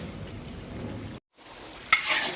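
Vegetables and masala for chicken jalfrezi fry in a pan with a steady sizzle that cuts out briefly, then returns with a sharp clank and a brighter, louder hiss.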